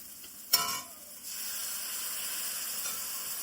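Sour yogurt is added to a sizzling mutton curry masala, setting off a loud burst of sizzle that eases off, then a strong steady hiss of frying that continues to the end.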